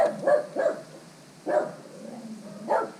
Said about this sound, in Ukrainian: не гавкай, будь ласка, я знімаю відео